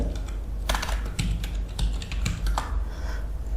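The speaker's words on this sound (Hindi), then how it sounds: "एंटर बटन प्रेस करेंगे और यहाँ पे टाइप करेंगे आप अनेबल" Keys clatter on a computer keyboard as commands are entered in Cisco Packet Tracer, a close, irregular run of crisp taps with brief pauses between bursts.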